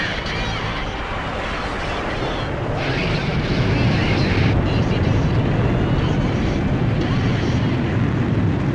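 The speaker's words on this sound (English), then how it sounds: "Aircraft launch confirmed." An aircraft launches by catapult from a carrier in the Ace Combat 5 video game, heard as a loud, steady jet and wind roar that builds slightly partway through, with voices talking over it.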